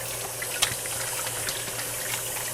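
Running water pours from a kitchen tap while hands are rinsed under it during crab cake preparation, a steady close splashing hiss with a few small spatters.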